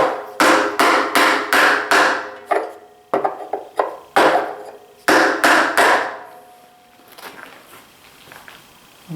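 Loud, close hammer blows struck with a block against a DeWalt 735 planer, a quick series of sharp metallic-wooden whacks in bursts with short pauses, tapering into quieter taps toward the end.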